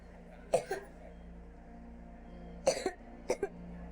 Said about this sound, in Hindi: दिखता नहीं बच्चा कितना खांस रहा है